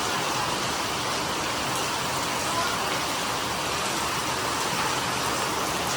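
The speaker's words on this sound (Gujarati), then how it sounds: "જબ્બર વરસાદ ચાલુ થઈ ગયો" Heavy rain falls in a constant, dense roar of broadband hiss that stays level from start to finish, loud and close, with no distinct voices standing out.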